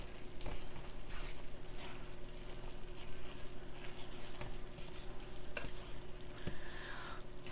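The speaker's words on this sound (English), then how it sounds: "I'm gonna stir this up a little bit." Cheese mixture is stirred into taco spaghetti in a pot, a faint, soft sizzle with light scraping and wet shuffling, steady and quiet with a few small knocks.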